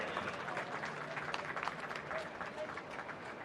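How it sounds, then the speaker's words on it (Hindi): Audience applause at a ceremony where a chief guest receives a memento: a steady wash of many hands clapping together, moderately distant and sustained throughout, with some voices mixed in. "दर्शकों से अनुरोध है, जोरदार तालियों से इस पल को अविस्मरणीय बनाएं।"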